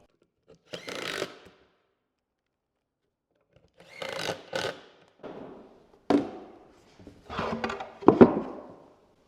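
Table saw fence being unscrewed at a workbench: a few separate bursts of ratcheting, clicking screwdriver and metal handling, with short pauses between them and a sharper clack near the end. No talking.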